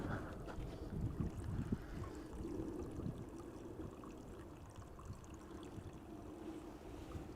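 Wind picks up on a snowy day at Amsterdam Schiphol Airport, a steady, fairly loud rumbling roar with gusty buffeting that swells early and then settles into a constant blustery drone, with no voices.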